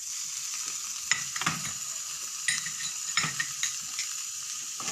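Garlic sautés in a little oil, a soft steady sizzle broken by several sharp scraping stirs of a spatula, fairly quiet with no voices.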